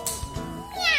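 A voice imitates a cat's meow in a Spanish-language children's story about snoring, a short rising-and-falling mew following brief speech, fairly close and clear.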